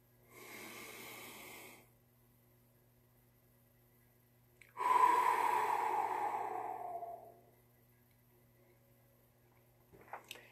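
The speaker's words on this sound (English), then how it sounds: "Breathing technique. So that's the box technique." Box breathing technique exercise: a close, steady inhale of about a second and a half, a pause of silence, then a longer, stronger exhale lasting over two seconds, with no talking.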